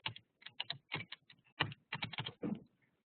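Typing on an Italian computer keyboard, with several quick bursts of close, crisp key clicks separated by short pauses and no talk.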